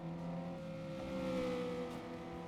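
A rally car engine in the video game Rally Arcade Classics drones steadily at a fairly constant pitch, a quiet, thin synthetic hum with slight rises and no talking.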